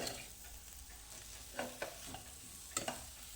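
A spoon stirs a vegetable filling mixed with chopped coriander for Kolhapuri katvada, giving a few soft scrapes and light clicks against the bowl over a quiet background.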